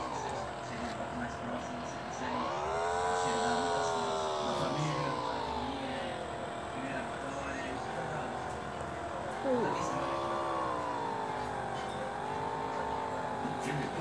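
A motorcycle engine in a game revs up, its pitch climbing and falling twice in long smooth sweeps, steady and fairly quiet throughout.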